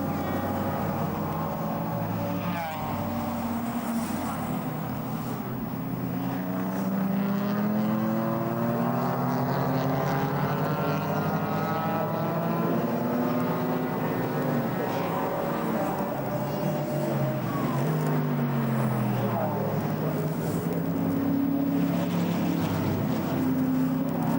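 Dodge Viper and BMW race cars circuit racing at the Nürburgring 24 Hours, engines roaring continuously with rising and falling pitch sweeps as they accelerate and pass, loud and steady throughout.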